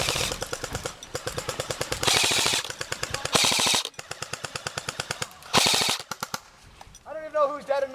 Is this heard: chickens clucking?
no